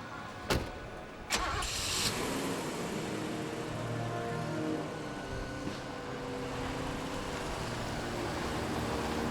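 A car engine cranks over with a couple of sharp clicks, catches and settles into a steady mid-pitched run that continues as the vehicle moves off, fairly close and without voices.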